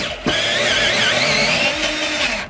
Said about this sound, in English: we have a tap and die set and we're gonna drill in some threads